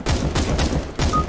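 Rapid gunfire bursts from a scoped weapon in Counter-Strike: Global Offensive, loud and close, with repeated shots overlapping in dense volleys.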